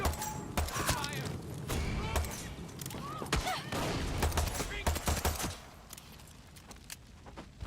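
Gunfire rattles through a Far Cry 6 firefight in dense bursts and single shots, overlapping with voices and in-game chatter before thinning out near the end.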